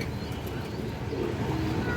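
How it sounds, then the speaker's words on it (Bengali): A pair of pigeons coo at a pigeon sale, giving a continuous low, burbling murmur with a soft background hiss throughout. "এই দেখেন দুটো কবুতর"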